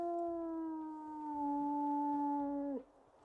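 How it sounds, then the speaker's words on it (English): A single long wolf howl from the WolfQuest video game, a sustained tonal cry that holds steady, dips slightly in pitch midway and cuts off sharply near the end, loud and close with no talking. "Now let's listen to his howl."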